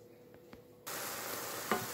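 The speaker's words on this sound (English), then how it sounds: "Okay, so our ground beef has been cooked till it's no longer pink" Ground beef sizzles and crackles in a frying pan, a steady close hiss that switches on abruptly after a quieter start, with a brief scrape of stirring near the end and no talking.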